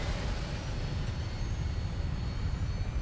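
A steady, loud low-pitched roar with broad hiss fills the whole stretch as an aircraft takes off in a video game, an even, continuous engine rumble with no voices.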